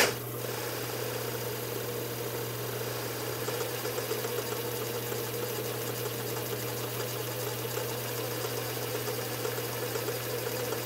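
A servo motor runs at low RPM, a steady low hum with a constant mechanical whine and faint vibration throughout, even and unbroken, with no voices.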